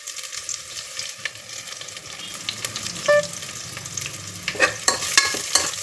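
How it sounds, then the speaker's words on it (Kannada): Garlic, cumin and chopped onion fry in oil in a pan, a steady close sizzle with occasional stirring scrapes and a few sharper clinks near the end; no voices. "ಚೆನ್ನಾಗಿ ಎಣ್ಣೆಯಲ್ಲಿ ಫ್ರೈ ಮಾಡ್ಕೊಳ್ಳೋಣ ಈರುಳ್ಳಿ ಕಂದು ಬಣ್ಣ ಬರೋವರೆಗೂ ಫ್ರೈ ಮಾಡ್ಕೊಳ್ಳೋಣ"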